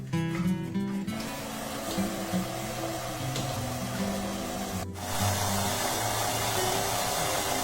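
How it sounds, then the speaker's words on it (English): A stand mixer with a paddle attachment creams butter and brown sugar, a steady motor whir with a shifting hum that briefly cuts out near the middle, close and continuous, with no talking. "Using our mixer with a paddle attachment this time, we just need to cream the butter and the brown sugar together"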